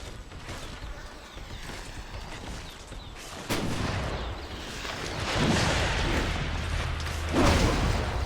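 Cannons firing in Marvel Ultimate Alliance 2, a dense barrage of heavy booms and blasts layered over rumbling battle noise, loud and continuous with sharper hits toward the end.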